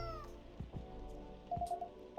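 A house cat gives a short, plaintive meow, close by, over low café machine hum and faint clinks in a barista setting.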